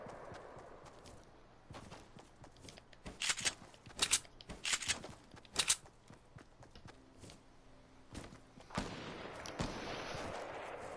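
Rapid bursts of gunfire from a Fortnite-style building shooter game ring out in clusters of sharp cracks, with quieter gaps between them and a steadier rush of noise near the end.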